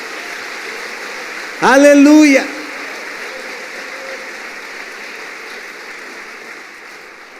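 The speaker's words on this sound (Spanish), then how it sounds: "Vamos, dale un aplauso a Él" A church congregation applauds in a steady, even wash of clapping, interrupted briefly by a voice calling out loudly before the applause continues at a lower level.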